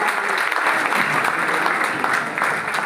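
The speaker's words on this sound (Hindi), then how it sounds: "बजाओ ताली उनके लिए।" An audience claps loudly and steadily for two people called up onto a stage, and the dense applause carries on without a break.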